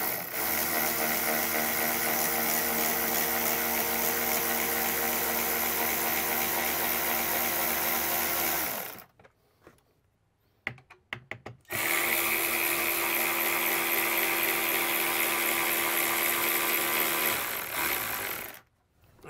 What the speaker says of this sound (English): I'm going to just go ahead and run these bolts in until it touches.